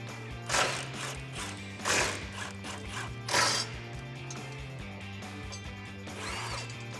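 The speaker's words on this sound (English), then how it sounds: "So with a 15mm socket, let's remove all 3 of these bolts." Ratchet wrench with a 15mm socket clicking in repeated bursts while backing out bumper bolts on a 2019-2020 Silverado 1500, close and steady with no talk.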